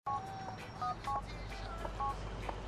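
Phone keypad dialing in the GTA IV video game, a series of short electronic tones beeping one after another close up over a low background hum, with no talk.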